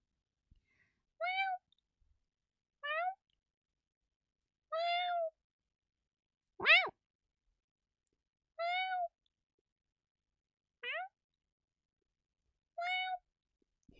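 A person imitates a cat with a series of seven short, separate meows spaced a second or two apart, fairly close and clear, with one higher, sharper cry in the middle and quiet in between.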